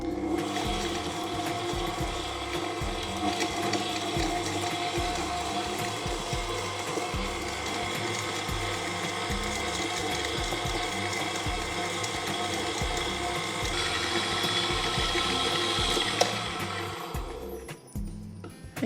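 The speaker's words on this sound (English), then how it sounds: "let's go ahead and mix these two ingredients until it becomes creamy" An electric mixer creams butter and sugar for a Boston bun batter, running with a steady whirring drone and a rhythmic low churn for the whole stretch, close and alone.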